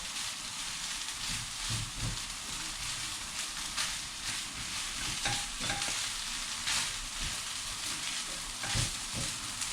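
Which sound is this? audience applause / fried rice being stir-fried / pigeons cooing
fried rice being stir-fried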